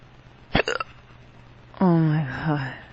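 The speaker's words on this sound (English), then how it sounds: "Oh my god, my hiccups are not taking the water." A person with persistent hiccups gives one sharp hiccup with a quick catch after it, then starts talking.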